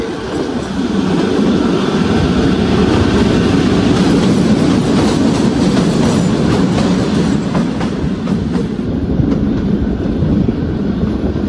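The Kalka-Shimla toy train, the Him Darshan Express, rolls into a mountain tunnel, loud steady wheel rumble and rhythmic clickety-clack echoing close around, with no talk over it.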